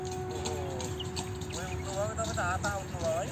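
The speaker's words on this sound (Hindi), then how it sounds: "यहाँ पर कुछ लोग घड़ी बग्गी का यानी घोड़े के साथ रथ का आनंद उठा रहे हैं" A horse-drawn carriage at the Rusayl roundabout in Oman gives light, rhythmic hoof clip-clops under a steady outdoor hum while someone talks over it.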